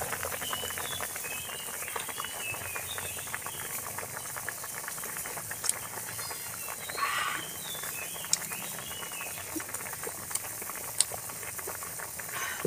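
A pot of fish soup simmering on the stove, a soft continuous bubbling and sizzling hiss with faint pops, quiet and steady throughout with no talking.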